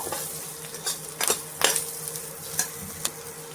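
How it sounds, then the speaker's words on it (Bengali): Nigella seeds and slit green chillies frying in oil, a soft steady sizzle broken by several sharp spits and crackles, close and fairly quiet with no talking. "তো ফোড়নটা ভালো করে একটু ভেজে নেব।"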